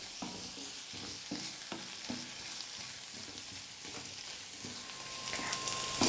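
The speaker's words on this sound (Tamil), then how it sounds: "இப்போ இது எல்லாத்தையும் சேர்த்து நல்லா வதக்கிக்கலாம்." Garlic and green chillies sauté in a pan for masala puri, a soft continuous sizzle broken by regular scraping stirs, close and moderately quiet, with no voices.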